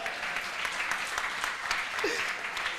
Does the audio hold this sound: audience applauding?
yes